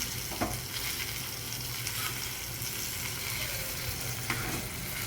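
Sliced potatoes fry in a pan with salt, giving a steady soft sizzle with occasional light stirring scrapes, quiet and unbroken.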